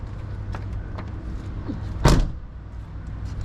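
The door of a rust-free 1988 Nissan Sentra shuts once with a single solid, close thud, followed by a brief settling rattle over quiet outdoor ambience.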